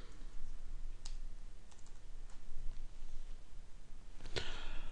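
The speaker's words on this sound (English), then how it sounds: "So hold down the Control key and press Tab" Computer keyboard clicks as Control and Tab keys are pressed, a handful of light taps followed by one sharper, louder key click near the end, close and alone without talking.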